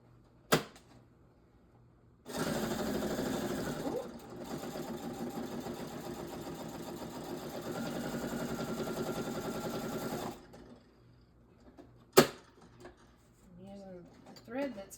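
A sewing machine stitches a row in a steady, buzzing run of about eight seconds, with a short pause partway through and a few clicks before and after, close up. A person speaks briefly near the end.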